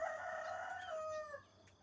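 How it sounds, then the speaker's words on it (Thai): A rooster in a backyard chicken coop crows once, a single drawn-out cock-a-doodle-doo lasting over a second that falls in pitch at the end. It is clear and fairly close, with no talk. "เวลาเข้าไปไล่ไก่ก็ไก่มันกวน"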